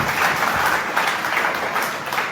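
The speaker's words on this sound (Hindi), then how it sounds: "आए हुए मेहमानों का जोरदार तालियों की गड़गड़ाहट से अभिनंदन" An audience at an annual talent award ceremony gives sustained, loud applause to welcome guests, with steady clapping from many hands throughout.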